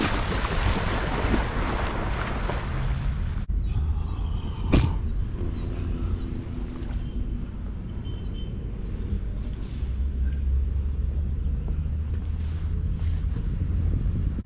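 Ocean surf at Harmony Beach in Jamaica, a steady rushing wash of waves with heavy wind buffeting the microphone, a brief sharp knock midway, and low rumbling swells continuing to the end.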